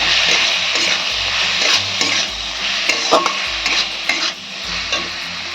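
Potol dorma filling with salt and turmeric is stirred in a hot pan, a spatula scraping and clinking rhythmically over a continuous close sizzle of frying.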